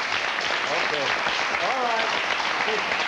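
Studio audience applause on a daytime talk show, an even, continuous patter of clapping at moderate level with a voice talking over it.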